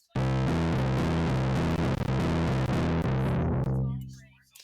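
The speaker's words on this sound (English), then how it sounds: "I'm going to turn the distortion down" Distorted synth or MIDI instrument track playing a loud, dense sustained chord with a steady pulsing rhythm, its edgy distortion gradually softening before the sound fades out at the end.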